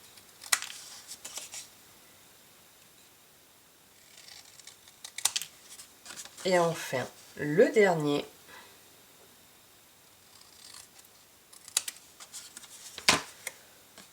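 Scissors snipping paper close by, quiet scattered cuts and rustles, with a short stretch of speech in the middle.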